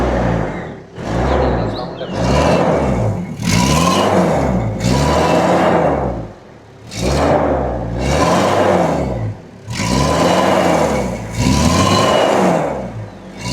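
A Toyota Dolphin van engine runs loud and close, rising and falling through a series of repeated revs, with no talking over it.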